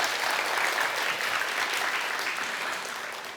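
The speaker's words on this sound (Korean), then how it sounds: "우정아 포스텍 교수님께 다시 한번 큰 박수 부탁드릴게요" Audience at a youth lecture event applauds the POSTECH professor after her talk, a steady, dense wash of many hands clapping that fades slightly toward the end.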